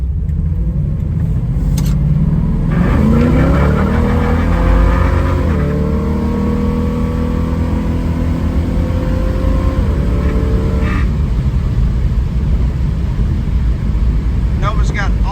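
A 1966 Chevrolet Nova SS engine rumbles, then revs up through rising gear pulls as the car accelerates, loud and close with steady road noise underneath and voices talking over it.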